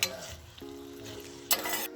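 Shrimp sizzling in a pan of butter and olive oil for shrimp and grits, a soft steady sizzle with stirring and a scrape or clink of a utensil against the pan, a short tonal ring partway through.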